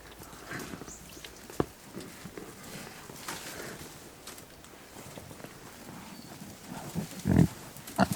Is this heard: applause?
no